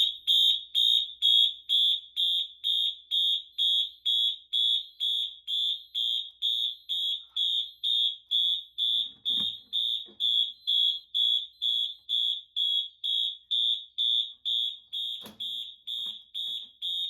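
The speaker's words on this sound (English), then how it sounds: "the MS7A will initiate a fire alarm condition" An FCI 7200 Micro fire alarm panel in alarm, its notification circuit set to continuous, gives a loud, close electronic alarm tone pulsing in rapid, regular bursts throughout, with a couple of faint clicks and no voices.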